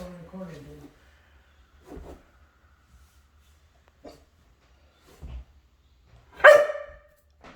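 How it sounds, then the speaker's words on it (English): Indoor dog barking at a bird loose in a house: a few scattered single barks spaced seconds apart, then one sharp loud bark near the end, with a person speaking nearby between them. "Yeah, that's it. Bark at it."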